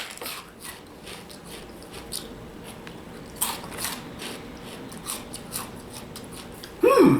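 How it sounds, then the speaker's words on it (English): Calbee snack chips being crunched, a faint crackling bite heard close up with soft repeated crunches, the loudest one at the very end and no talking. "they have a very impressive crunch"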